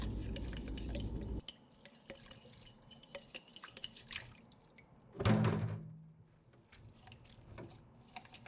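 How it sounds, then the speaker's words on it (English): Reused canning jars and lids get scrubbed in water: irregular rubbing and sloshing, light drips, and a heavier thunk of glass partway through, close by with no talking. "I reuse jars and lids, so everything is getting a good scrubbing."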